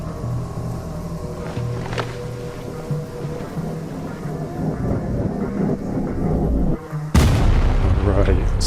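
A building blown up in the video game Chernobylite 2, heard as rumbling low booms and distant blasts under game ambience, then a sudden loud, close explosion near the end that keeps roaring on.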